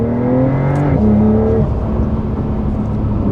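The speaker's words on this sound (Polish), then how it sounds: "tryb manualny, w sekundę redukuję o kilka przełożeń, zrzucę sobie do dwójki i zobaczcie, co tu się dzieje" Porsche 911 Carrera 992.2 engine in manual mode, revving hard as the gearbox drops several gears down to second; a loud, close, sustained roar with falling then rising pitch steps, no talk over it.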